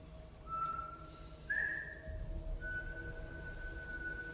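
A man whistles a few sustained, wavering notes, faint and thin against a low background rumble, with pauses between the tones and no talk.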